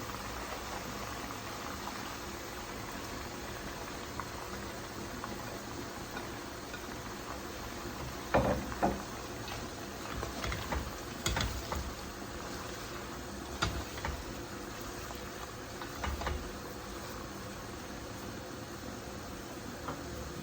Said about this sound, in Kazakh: Сәбізімізді салып, тағы да 10 минут баяу отта қуырып аламыз.